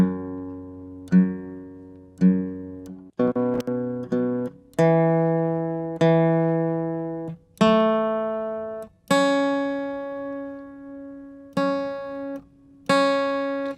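A guitar is tuned: single strings are plucked one after another, each note ringing out and fading, with the pitch adjusted between plucks.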